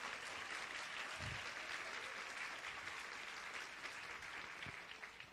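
Steady, dense applause from a congregation at a women's church service, filling the space evenly for several seconds before tapering slightly at the end.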